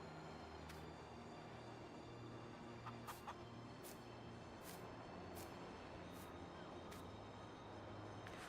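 Chickens cluck in Farming Simulator 19, with intermittent short calls over a steady low farm-machinery hum.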